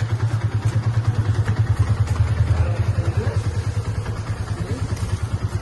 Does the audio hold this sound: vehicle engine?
yes